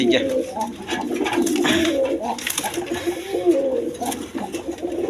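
Masaldam breed pigeons for sale coo in low rolling calls throughout, with nearby voices talking over them and general market bustle.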